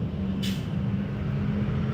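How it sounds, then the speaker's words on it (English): Large trucks passing by, with one short hiss of an air brake releasing over a steady low traffic rumble. "And there's massive trucks going."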